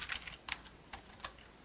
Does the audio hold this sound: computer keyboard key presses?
yes